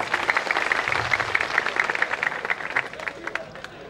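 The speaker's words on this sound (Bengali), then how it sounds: "সম্মানিত অতিথিদের জন্য আবারও একটি সজোরে করতালি হবে।" Audience applause for the guests at a formal event, dense clapping from many hands running steadily throughout, moderately loud and fairly close, with no speech over it.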